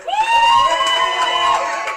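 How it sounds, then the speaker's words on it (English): Jubilant crowd cheering and whooping outside the White House late at night, a dense, loud wash of many voices with high shouts rising over it, continuous throughout. "the crowd here outside the White House is continuing to grow. It is part sheer jubilation"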